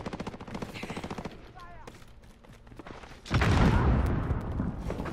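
Gunfire in a shooter video game, rapid submachine gun bursts in the opening seconds, then a heavy, sustained rumbling barrage with booms, loud and dense.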